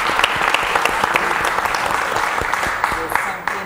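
An audience at a 50th-anniversary special broadcast bursts into brisk applause, sharp individual claps standing out from the crowd's steady clatter, gradually thinning toward the end.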